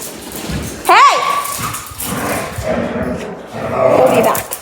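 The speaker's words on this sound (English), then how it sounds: "my dog's barking because we're about to vacuum" A dog barks and growls from inside its crate at home with vacuuming about to start, giving a sharp bark followed by rough rumbling. Several people talk loudly throughout.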